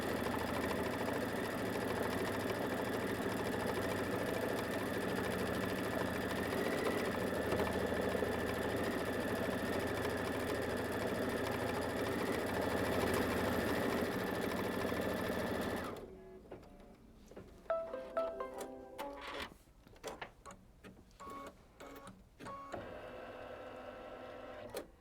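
A Kimberbell embroidery machine stitches out the quilting on a quilt back, humming in a steady, close mechanical whir for about fifteen seconds before stopping and giving way to scattered handling clicks and rustles.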